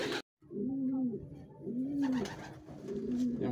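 Racing pigeons being readied for a second-lap derby coo in a loft, giving three rolling, evenly spaced coos over a soft background hum.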